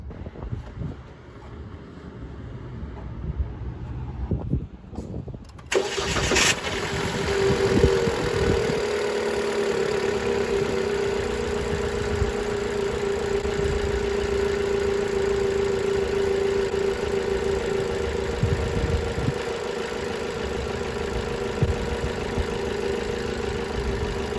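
A car engine is started and settles into a steady idle, a continuous close hum with a faint whine, after a few seconds of quieter handling sounds and a crank at the start.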